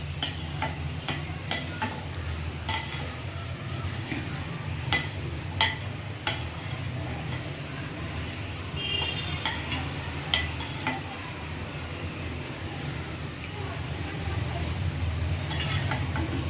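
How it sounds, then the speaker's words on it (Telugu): Chana dal fries in hot oil with a steady, close sizzle, broken by repeated light clicks and taps of a utensil stirring the pan, and no talking throughout. "ఇప్పుడు చనాదాలు ఆయిల్లో ఫ్రై చేసుకుంటాను"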